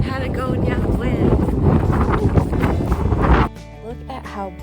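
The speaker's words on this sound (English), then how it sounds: "It's getting windy too. That infamous Patagonia wind." Strong Patagonian wind in Torres del Paine National Park, Chile, roars and buffets steadily against the microphone for several seconds before cutting off abruptly.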